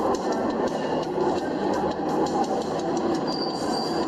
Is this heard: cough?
no